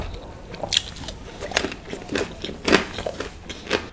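Bites into a crunchy paneer Domino's pizza, a series of sharp crisp crunches and chewing sounds close to the mic, irregular over about four seconds, with no talking.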